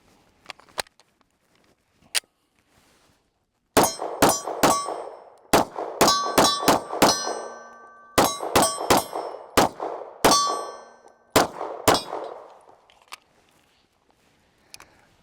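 A Staccato HD 3.6 pistol fires a metal magazine's worth of rounds outdoors: a dozen or so sharp, cracking shots in an uneven rhythm, some with a metallic ring after them, and a few faint clicks before and after.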